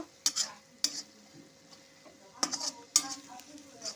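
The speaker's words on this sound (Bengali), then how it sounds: "আঁচটাকে লোতে দিয়ে সমস্ত মশলার সাথে পেঁয়াজ রসুনটার সাথে ভালো মতো করে ভেজে নেব" On low heat, onion, garlic and spices fry gently in a pan, a faint quiet sizzle broken by a few sharp scrapes and clinks of a stirring spoon.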